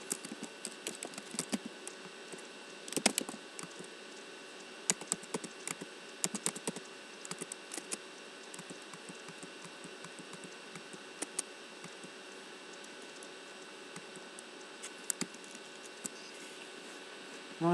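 Quick bursts of typing on a computer keyboard while form data is entered, with irregular clusters of close, sharp key clicks over a faint steady hum and no talking.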